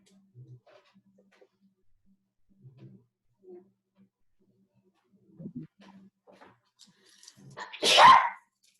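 Quiet murmurs and small sounds come first, then a single sharp, loud sneeze bursts out near the end.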